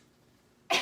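A single short cough bursts out suddenly near the microphone after a quiet pause.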